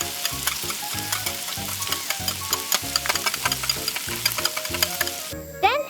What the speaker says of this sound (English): Cook and stir the spices until they are thoroughly combined in the pan.